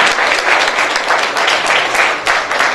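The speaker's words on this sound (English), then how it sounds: "Give yourselves a great big round of applause." A crowd applauds after a magic rope trick, loud, dense clapping close by that carries evenly through the short burst.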